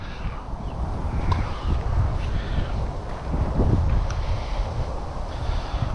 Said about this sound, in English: That's the problem when it's so windy